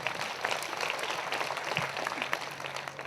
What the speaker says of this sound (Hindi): जोरदार ताली बजे परमेश्वर के लिए